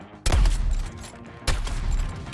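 Sniper rifle shots in Suicide Squad: Kill the Justice League, two abrupt, loud cracks about a second apart, each followed by a short decaying rumble in otherwise quiet game ambience.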